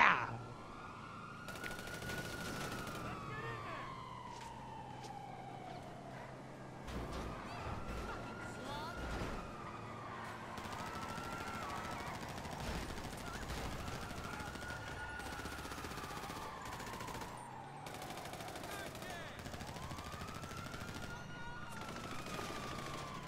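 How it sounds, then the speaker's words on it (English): Police sirens wail in slow repeated rising and falling sweeps through a video game shootout, mixed with bursts of rapid heavy machine gun fire and scattered shots, steady and fairly quiet, with voices talking underneath. "Get out your heavy machine guns."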